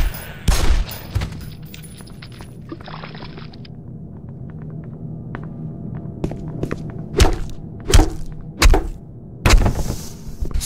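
Gunfire in the Black Mesa video game: sharp shots crack out, a few early then a rapid cluster near the end, loud and close over a low hum with some thuds between.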